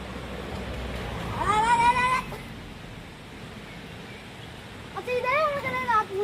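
A cat meows twice, a drawn-out wavering meow near the start and another toward the end, fairly close and clear over faint background noise.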